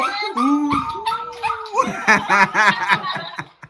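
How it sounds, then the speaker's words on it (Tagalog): A dog howls in long, wavering, rising and falling notes, close by, while people laugh and chatter alongside at a birthday party. "Pati yung aso kumakanta."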